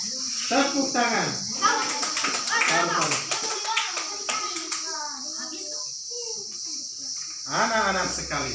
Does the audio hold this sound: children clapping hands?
yes